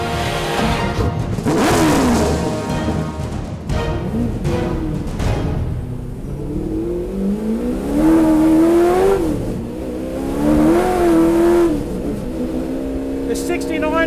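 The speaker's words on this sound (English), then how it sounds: "it's time to drive my all-time favourite car, 69 fastback Mustang." A 1969 Ford Mustang Boss fastback race car revs hard on a track, its V8 rising and falling through several loud surges with talk over it.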